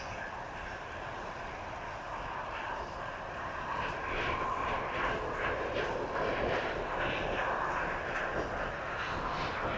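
A Jet2 airliner taxis toward the end of a runway, its engines producing a steady, distant broadband roar that swells slightly midway, heard outdoors with no talking.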